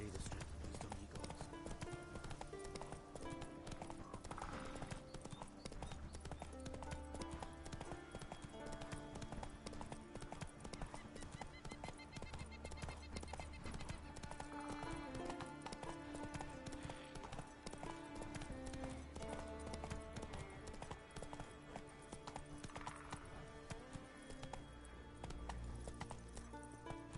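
In The Witcher 3 video game, the horse Roach gallops with continuous rhythmic hoofbeats that run throughout, mixed with game music and character voices talking.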